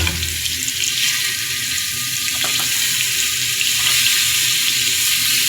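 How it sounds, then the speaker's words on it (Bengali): Rohu fish rubbed with turmeric and salt frying in a pan, a steady close hiss of oil spitting without pause, with no talk over it. "হলুদ লবণ মেখে আমি মাছটি সুন্দর করে ভেজে নিচ্ছি"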